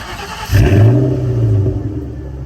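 A 2004 Ford Mustang Cobra with an SLP Off-Road X exhaust revs once hard, its deep, loud engine roar swelling then easing back to a rumbling idle, close up.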